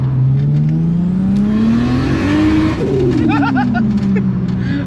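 A Ford Granada fitted with a 2JZ Supra engine revs up and back down in one smooth, loud swell, with a bird cooing nearby in the background.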